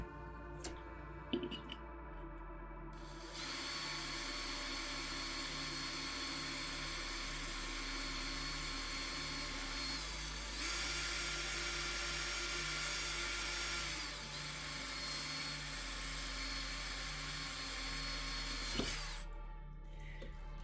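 Power drill boring a drainage hole through a ceramic pot with water, a loud steady high whine of the bit grinding ceramic that runs continuously after a short start, with a few clicks and a brief clunk near the end.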